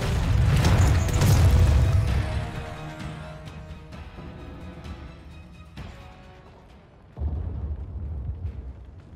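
An explosion in the shooter video game Gears 5: a loud, deep boom at the start rolls off into a long decaying rumble, and a second heavy low thud follows near the end.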